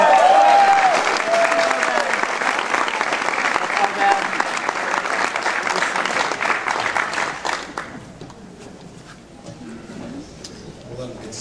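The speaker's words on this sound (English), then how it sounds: "let's give these guys a big round of applause" An audience at a network marketing summit claps and cheers for the arriving guests, loud dense applause that gradually thins and fades toward the end, with a few voices and a brief whistle early on.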